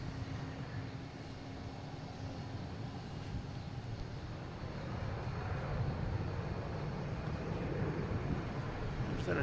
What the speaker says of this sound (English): Just had a Delta come in on 27 from Atlanta. A321 flight 862.